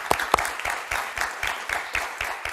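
A game show studio audience keeps up steady applause, many hands clapping evenly throughout with a few sharper claps standing out near the start.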